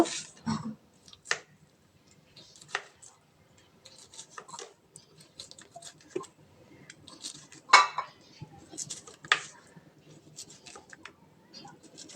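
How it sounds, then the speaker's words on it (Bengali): A knife chops boiled eggs for an egg salad, giving sparse irregular taps and clicks on a board at close range, with faint room noise between the strikes. "এবার এটাকে আমরা কুচিয়ে নেব।"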